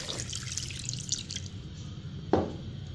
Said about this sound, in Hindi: साथ ही मैं इसके अंदर एक गिलास पानी ऐड कर दूंगी